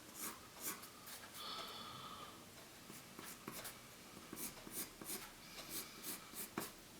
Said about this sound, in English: now draw the other foot